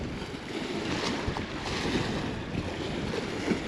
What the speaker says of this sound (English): Very breezy, very windy.